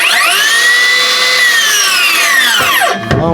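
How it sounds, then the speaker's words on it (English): A Makita 40V 10.25-inch rear handle circular saw whines loudly at full speed, then its pitch drops sharply as it spins down and stops. "This is a circular saw. It's just a bigger circular saw."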